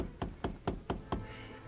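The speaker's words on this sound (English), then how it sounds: "He rapped on the door." Five sharp, evenly spaced knocks on a hotel room door, close and distinct, with no talking.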